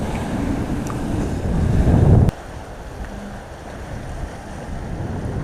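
Ocean waves and strong wind on a sailboat crossing from New Zealand toward Fiji: a loud rushing surge of water and wind buffeting the microphone that ends suddenly, followed by a quieter steady wash of sea and wind.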